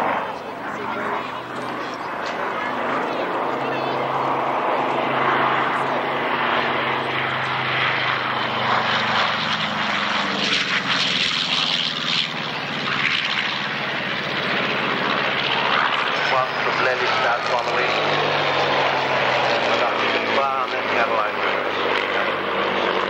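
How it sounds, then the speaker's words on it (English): P-51 Mustang propeller warbird flying at an airshow at Wroughton Airfield, a loud sustained piston-engine drone that swells and shifts in pitch as it passes, with a commentator talking over it throughout. "the Intrepid Mustang that's airborne in front of you now"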